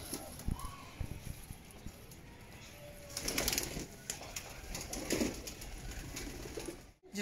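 Pigeons in their coop coo softly while being fed grain, low and fairly faint, with rustling, light wing movement and small knocks around them.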